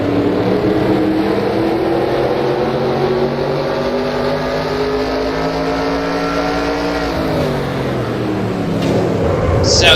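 A loud racing truck engine in a video game drones steadily at Martinsville, its pitch holding then dropping as it shifts down, heard from on board with constant rumble.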